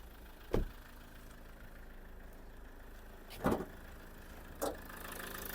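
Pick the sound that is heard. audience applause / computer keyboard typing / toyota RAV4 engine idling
toyota RAV4 engine idling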